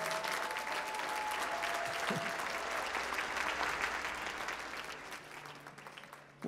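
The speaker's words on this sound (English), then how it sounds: "Let's give him another round of applause." Sustained applause from a large audience at a university commencement, steady and even, gradually tapering off toward the end.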